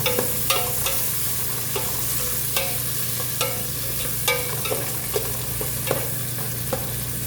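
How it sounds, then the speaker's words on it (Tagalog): Food sizzles steadily in a hot pan while cooking Bukhari rice with chicken; a utensil scrapes and stirs, making light periodic clinks over the constant frying hiss. "Prito lang po yan."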